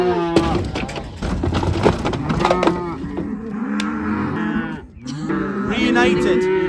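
Limousin cross Simmental cows and calves mooing on a hillside as the cows rush up to reclaim their calves, with many overlapping close and distant calls in a continuous chorus, with voices partly under it.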